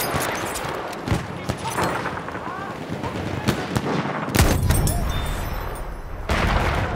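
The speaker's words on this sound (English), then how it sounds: "Machine gun, one of theirs." Enemy machine gun firing in a World War I shooter set on the Somme, bursts of rapid gunfire and sharp shots echoing at mid distance amid battlefield rumble, with a louder close blast near the end and voices in the background.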